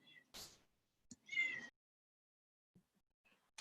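A cat meows softly in a few short, separate calls close to the listener, with quiet gaps between them.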